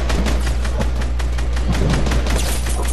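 Rapid gunfire in a shooter video game, with dense, loud bursts of shots rattling continuously over a constant low rumble, with no voices heard.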